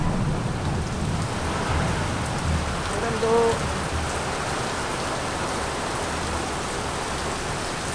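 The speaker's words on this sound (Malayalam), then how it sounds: "ഭയങ്കര മഴയാട്ടോ. മഴ മാത്രമല്ല, കാറ്റ്." Heavy rain and strong wind in Mundakayam: a dense, constant roar of downpour and gusts, close and unbroken, with a brief spoken word barely rising above it.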